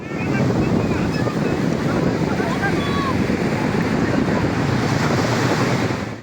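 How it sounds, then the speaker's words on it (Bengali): Sea waves and strong wind on the beach at Puri: a steady, loud roar of surf with wind buffeting the microphone throughout, unbroken for the whole stretch. "সমুদ্রের সামনে চলে এসেছি, কি সুন্দর হাওয়া দিচ্ছে।"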